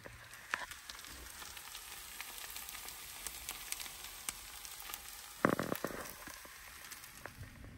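Hash browns frying outdoors in the snow give off a faint, steady sizzle that runs throughout, with a brief louder crackling burst partway through.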